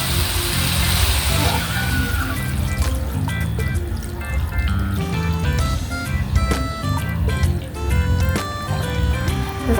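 Water pours into a cooking pot for pork sinigang in a home kitchen, a loud gurgling fill with splashes and drips that continues throughout, while a voice talks in the background.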